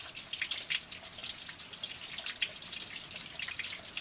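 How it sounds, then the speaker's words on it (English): Water trickles and drips inside an old open coal mine, a steady patter of close, bright drops over a soft running wash, with no talking. "I don't know why there's water pouring out at the front."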